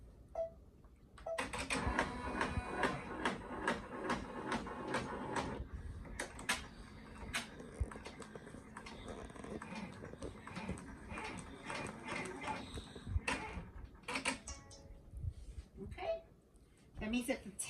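An embroidery machine stitches a design on a towel or hat, a fast steady mechanical clatter with rhythmic ticking that runs continuously at close range, with a few irregular knocks near the end.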